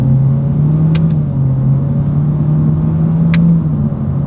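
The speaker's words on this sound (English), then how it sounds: "let's see how quickly we can get our new 2026 Honda Civic here up to speed" A 2026 Honda Civic with a CVT, held in paddle-shift manual mode, accelerates with a steady droning engine hum and road rumble that holds an even pitch throughout, with a couple of faint clicks on top.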